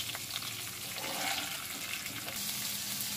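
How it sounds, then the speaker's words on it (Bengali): Cauliflower pieces brown as they fry in a pan. A quiet, hissing sizzle with a watery, bubbling texture carries on continuously and without talk. "ফুলকপির টুকরোগুলো দিয়ে একটু ভেজে নেব। ব্রাউন কালার করে ভেজে নেব।"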